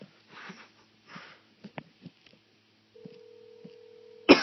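A telephone dial tone and short beeps from a prank call to Taco Bell, faint sniffs and small clicks first, then one steady tone for over a second and a loud burst at the end.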